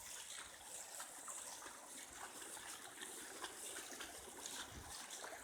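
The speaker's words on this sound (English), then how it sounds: "There's some more of the water running." Floodwater running in Penn Yan, a continuous faint rushing and trickling of water, steady with no talk.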